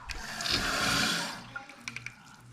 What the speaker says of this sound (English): So as it goes down through there, it's gonna fill up the bowl.